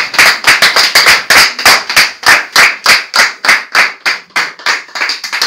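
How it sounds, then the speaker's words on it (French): An audience claps in steady unison for pastor Claude Louba as he stands, about two dozen loud, evenly spaced claps with no talking. "nous demandons au pasteur Claude Louba de se mettre debout et pendant qu'il s'élève, nous allons l'acclamer"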